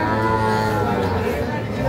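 A Sahiwal bull calf at a cattle market lows in a long, deep, sustained call, loud and close, with crowd chatter around it.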